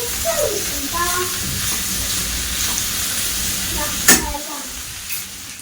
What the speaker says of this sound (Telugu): ఇప్పుడు ఫస్ట్ ఆయిల్ లో ఈ దొండకాయ ముక్కలు యాడ్ చేసి ఒక 2 minutes హై ఫ్లేమ్ మీద ఫ్రై చేసుకోవాలి